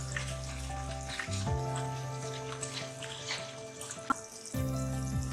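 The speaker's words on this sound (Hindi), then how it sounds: "हलवा जो है वो देचकी की दीवारें छोड़ना शुरू हो गया है और इसको हम जल्दी से मिक्स करेंगे अच्छी तरह" Halwa cooking in a pot (degchi) as it starts pulling away from the sides, with a soft sizzle and scraping stir sounds, quiet and close, plus a brief sharp knock near the end.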